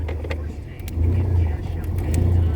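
A Ford Ranger pickup with a 4.0 engine, manual-swapped, idling with a low steady rumble that swells slightly, a few clicks and knocks on top, heard close by.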